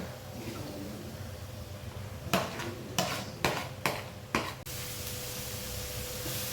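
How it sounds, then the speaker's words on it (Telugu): Grated carrot stirred into fried tomato paste in a pan, a low sizzle with about five sharp scraping strokes of a spoon in quick succession, then the sizzle settles again. "ఇందులోనే కొంచెము ఈ తురుముకున్న క్యారెట్ని కూడా వేసేసి కలిపేసుకోవాలి"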